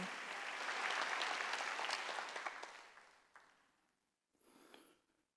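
A church congregation at a Korean Sunday worship service breaks into loud applause that swells, then fades to silence before a brief, softer second burst of clapping.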